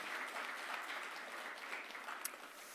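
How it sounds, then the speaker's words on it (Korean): A church congregation at a Sunday afternoon worship service applauds warmly, a continuous, even wash of many hands clapping that sounds somewhat distant and soft throughout. "우리 들어가실 때 뜨거운 박수로 앉으시기 바랍니다"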